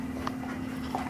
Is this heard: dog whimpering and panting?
yes